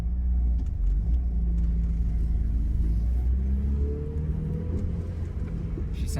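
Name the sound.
1993 Eagle Talon AWD turbo car driving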